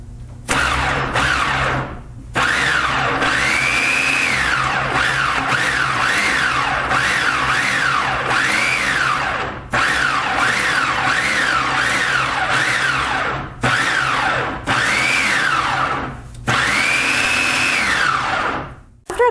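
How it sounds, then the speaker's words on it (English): A Black & Decker food processor with an 8-cup work bowl pulses salsa in repeated short bursts, each a loud rising-and-falling motor whine separated by brief pauses, close and with no voices. "Couple of pulses, it did a decent job of making the salsa."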